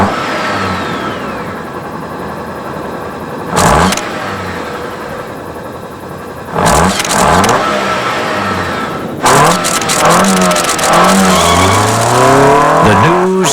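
A Honda Civic Hatchback Si accelerates hard in repeated passes, each one a loud rising engine whine with revving and a hint of tire squeal. The bursts arrive close up and sweep past in quick succession.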